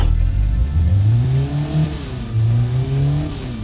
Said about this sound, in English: Now it's starting to sound like a real engine.